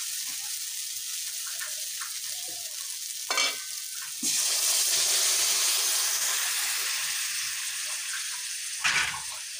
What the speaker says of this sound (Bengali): এবার আমি গরম জল দিয়ে দিচ্ছি।